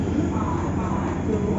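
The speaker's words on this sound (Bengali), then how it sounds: "অবশেষে ট্রেন গিয়ে পৌঁছালো খড়গপুর স্টেশন।" A Dhouli Express train running into Kharagpur station gives a steady low rumble and rolling clatter from inside the carriage, continuous and fairly loud throughout.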